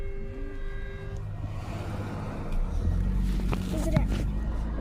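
A Metrolink commuter train cab car sounds its horn in the morning, a sustained multi-tone blast at the start, followed by the deep rumble of the train rolling closer.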